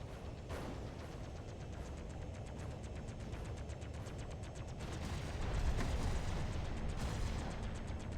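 Explosions in the space game Independence War 2 rumble as a dense, continuous low roar with scattered crackling bursts, swelling slightly toward the end.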